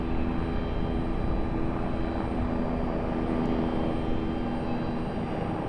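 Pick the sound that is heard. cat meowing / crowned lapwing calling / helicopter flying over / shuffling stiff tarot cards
helicopter flying over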